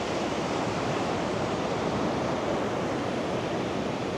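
Ocean waves on the beach at My An in Da Nang, Vietnam, a steady, loud, broad wash of surf that never lets up, with no voices.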